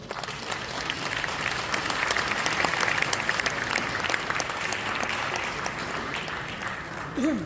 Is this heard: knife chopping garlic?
no